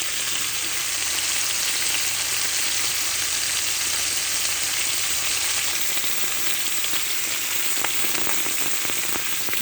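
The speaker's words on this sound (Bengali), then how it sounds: "মাঝারি আঁচে মাছগুলো ভেজে নিতে হবে।" Pieces of silver carp fish frying in oil over medium heat, a loud, steady, close sizzling hiss that runs unbroken with a few crackles near the end, no talking.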